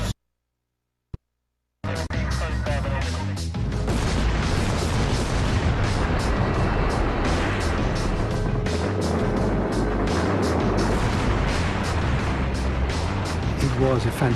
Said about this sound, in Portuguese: A explosão lembrou fogos de artifício.